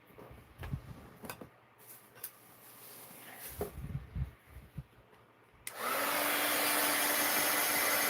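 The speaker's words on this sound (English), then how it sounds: "now let me hit that with the heat gun" After several light taps and handling noises, a heat gun switches on abruptly and blows a loud, steady rushing whoosh over a mixed-media journal page for the last few seconds.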